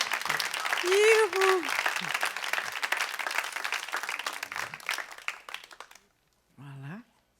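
Studio audience applauding two performers after a musical interlude: a steady wash of clapping lasting about six seconds, with a voice calling out over it. It then goes quiet and someone speaks briefly.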